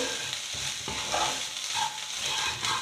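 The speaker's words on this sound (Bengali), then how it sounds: "এবার আমি মাছটাকে আবার একটু ভালো করে ভেজে নিয়ে তুলে রাখবো" Steady sizzle of fish frying in hot oil, close by, with a few stirring scrapes over it.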